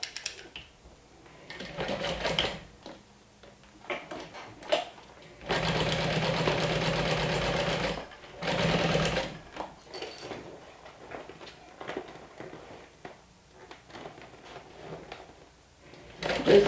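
A sewing machine stitches a thick seam on a clear vinyl beach bag, a close mechanical whirring in two longer runs with short starts and stops between, with someone speaking quietly in the gaps.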